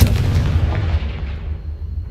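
A Confringo explosive spell goes off in Hogwarts Legacy, a single heavy booming blast with a rumbling low tail that fades over about two seconds, loud and close.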